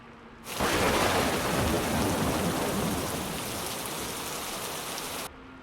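Steady, heavy rain pours down loudly and continuously, a dense hiss that starts abruptly and fades slightly before cutting off.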